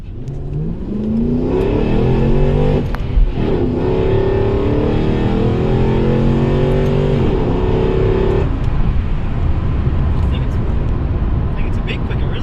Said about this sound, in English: I'm going to floor it in back to first gear.